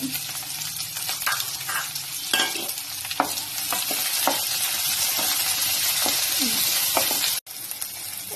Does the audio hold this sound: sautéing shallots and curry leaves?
yes